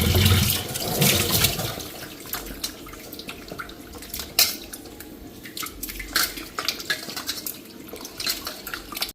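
Meat is washed under running water in a metal bowl, with water splashing and dripping while pieces clatter and clink against the vessel in irregular bursts, close and moderately loud.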